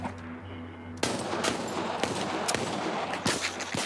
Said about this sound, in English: Damien, don't shoot the zombie. I can shoot him from here.